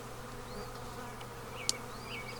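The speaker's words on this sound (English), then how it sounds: "Don't worry about the bees that are on the side because they're going to come in a little later." Honey bees from a newly installed package buzz around a backyard hive, a soft, continuous hum with individual insects droning past, plus one sharp click partway through.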